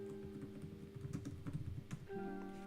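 Fingers tap out a short command on a computer keyboard, a close burst of quick irregular keystrokes over a faint steady hum, with no one speaking.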